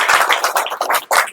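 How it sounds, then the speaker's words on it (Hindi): A classroom audience claps for a student, a brisk burst of many hands slapping in quick irregular bursts, loud and close, with brief gaps between the clusters of claps. "चलिए एक बार ताली बजाइए तो इनको लिए।"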